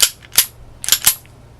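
A Colt 1903 Pocket Hammerless pistol being worked by hand, giving a few sharp, close metallic clicks and snaps in quick pairs, with no voices.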